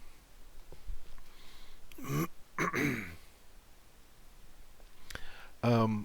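A few short, rough coughing bursts close to the mic, separated by quiet pauses, with a brief click near the end.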